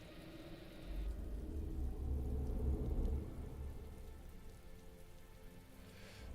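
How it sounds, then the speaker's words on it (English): Steady rain pours down in a storm in the online game Anarchy Online, a continuous wash of falling water with a low rumble swelling in the first half before easing. "there's a big storm. You know, it's chucking it down with rain at the minute."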